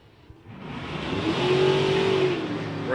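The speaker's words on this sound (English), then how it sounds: "Green light drag race." Drag race cars in a Super Gas pairing at the Euro Finals launch on a green light, their engines rising from a low rumble to a loud, sustained roar at a distance.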